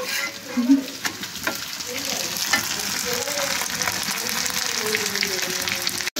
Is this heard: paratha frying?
yes